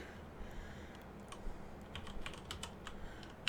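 Quick typing on a computer keyboard, irregular clusters of close keystrokes over a steady low background hum, with no talking.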